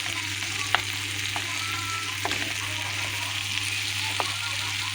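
Okra pieces with shrimp fry in a pan, a continuous loud sizzle with occasional sharp clicks and scrapes of a spatula turning them over.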